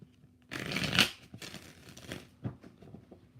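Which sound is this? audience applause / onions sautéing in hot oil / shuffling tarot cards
shuffling tarot cards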